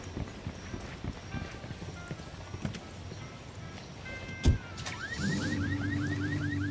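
A Lamborghini in Ghost Recon Wildlands passes with a sharp thump, then a rising, revving engine whine with repeated gear-like pitch sweeps, after quieter tapping and light mechanical noise.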